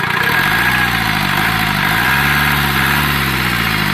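A used rice-mill farm truck engine idles close up, a loud, steady low rumble with a pulsing beat and vibration throughout.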